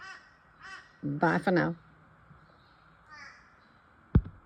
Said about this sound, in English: And with that crow